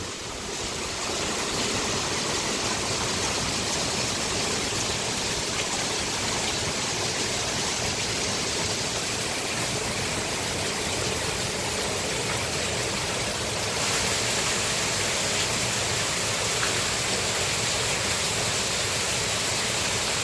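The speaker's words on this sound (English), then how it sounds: "It's 5:12 in the morning and it is absolutely pouring down." Heavy early-morning downpour in Laos makes a loud, unbroken roar of rain, steady and broad like rushing water, growing slightly heavier partway through, with no talk.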